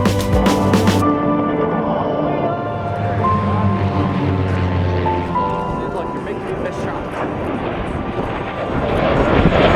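Airplanes roaring overhead at the L.A. County Air Show in Lancaster, a loud sustained engine drone rising and falling beneath a person talking close by.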